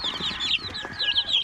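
Native chickens and a Rhode Island Red rooster cluck in a farmyard, giving close, repeated squawky calls in uneven bursts with a faint hum underneath.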